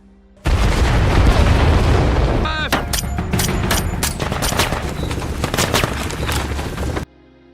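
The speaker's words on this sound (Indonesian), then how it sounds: "Tim pun melakukan serangan di saat muncul ledakan besar." Film scene: a loud, close explosion booms, followed by sustained bursts of rapid gunfire and scattered shots that continue steadily until the sound cuts off.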